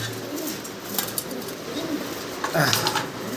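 Pigeons kept for sale coo in low, rolling, repeated calls close by, with a faint voice in the background.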